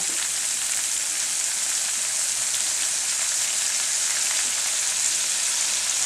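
A teaspoon of tomato paste sizzles steadily in a hot pan during vindaloo curry preparation, a dense, even hiss of frying held at moderate loudness throughout with no talking.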